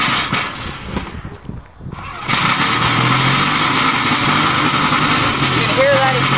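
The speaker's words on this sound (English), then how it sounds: "You can hear that exhaust of that one, eh?" Steady engine and exhaust drone from a passing vehicle on a road, loud and continuous after a brief lull, with people talking underneath.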